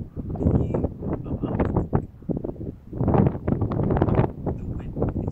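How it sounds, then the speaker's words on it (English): Strong wind gusts buffet an outdoor shooting range, roaring and rumbling in uneven surges across the microphone, with loud low-frequency bursts that rise and fall every second or two. "The wind is crazy."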